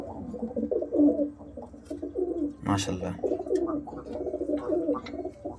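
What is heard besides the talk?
pigeons cooing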